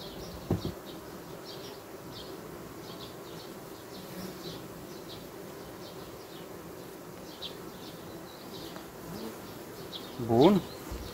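Honey bees buzz softly around an open hive colony, a faint steady hum with scattered louder passes, while a beekeeper speaks quietly and a brief bird-like chirp sounds near the end.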